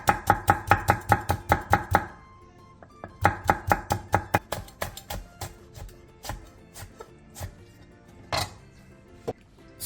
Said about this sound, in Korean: 청양고추 2개, 홍고추 1개는 얇게 쫑쫑 썰어주세요.